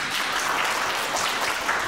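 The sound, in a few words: applause at a birthday celebration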